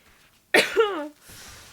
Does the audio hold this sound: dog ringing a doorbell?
no